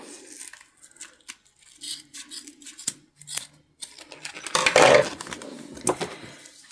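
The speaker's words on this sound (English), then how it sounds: "We are just going to go ahead and trim off our excess zip tape." Scissors snip through excess zip tape during sewing, a string of close, crisp cuts and rustles, sparse at first then a louder burst of cutting and tearing near the end, with no voices.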